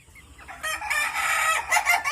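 Chickens in a farm coop, including a white hen that is unwell, crowing and clucking loudly at close range in a busy overlapping burst, with no talk.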